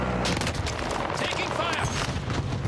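Sustained automatic gunfire in the battle royale video game Call of Duty Warzone, with dense rapid rattling shots and heavy booms overlapping into a loud, continuous barrage.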